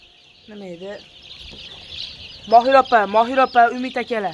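Chickens at a poultry seller's on a street, clucking and chirping in a quick series of calls, with people talking nearby.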